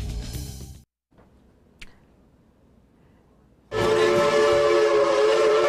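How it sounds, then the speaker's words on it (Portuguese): A Maria Fumaça steam locomotive whistle, played as a sound effect, blows loud and close with a rich, sustained, multi-tone shriek. It follows a brief burst of other sound and a quiet gap. "Esse apito de Maria Fumaça é para dar uma dica do que vem depois do intervalo"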